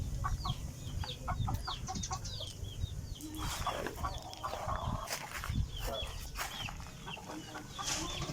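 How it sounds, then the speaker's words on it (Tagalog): Several backyard chickens cluck and chatter nearby in a busy, overlapping flock at feeding time, with occasional louder squawks and soft background rustling. "kailangan na natin magpakain ng ating manok."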